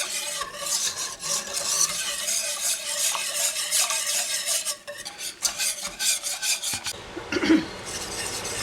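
Chocolate pudding being stirred constantly in a pot over medium-low heat, with a steady rhythmic scraping of the spoon against the pot bottom, close and alone.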